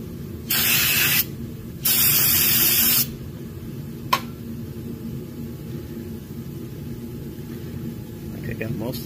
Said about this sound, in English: Brake cleaner running down my arm.